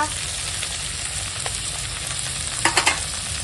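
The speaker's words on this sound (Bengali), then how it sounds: "পেঁয়াজটা একটু ভেজে নেব" Onion, chopped tomato and ginger-garlic paste frying in hot oil give a steady close sizzle, with a few brief stirring clicks near the end.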